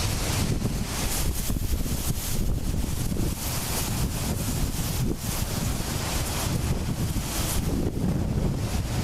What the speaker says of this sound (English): The wind is absolutely ridiculous.